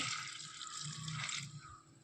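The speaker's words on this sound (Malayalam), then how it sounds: "ഞാനിവിടെ ഒരു ഗ്ലാസ് വെള്ളമാണ് ഒഴിക്കുന്നത്" A glass of water is poured into a cooker while a jackfruit seed and drumstick leaf curry is cooked, giving a brief, soft splashing pour of about two seconds with no talking.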